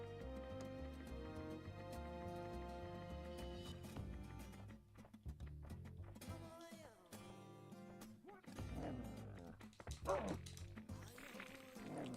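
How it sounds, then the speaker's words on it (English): A dog in a stealth video game barks and whimpers in short yips over a steady droning musical score, fairly faint, with a few louder bursts toward the end. "Doggo."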